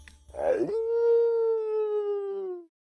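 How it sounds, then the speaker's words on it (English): A large dog howls once near the listener, a brief yelping rise that settles into a long, steady, slowly falling tone lasting about two seconds before cutting off. "It howls in delight"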